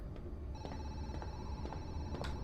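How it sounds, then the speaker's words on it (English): A telephone rings inside the horror video game Zoochosis, a rhythmic electronic trill repeating in quick regular pulses over a low background hum, clear and alone with no talk. "let me answer the phone so it stops ringing"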